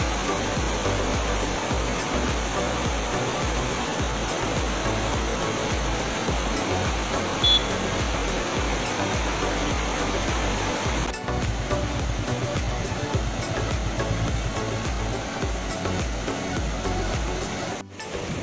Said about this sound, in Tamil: ரோட் சைட்லேயே உள்ள ஒரு அழகான குட்டி வாட்டர் ஃபால்ஸ்